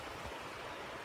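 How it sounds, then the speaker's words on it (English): A small mountain stream, Hat Creek in Lassen Volcanic National Park, gives off a steady, soft rushing wash of water, faint and heard from some distance with no voices. "there's a little stream right down there. That's Hat Creek."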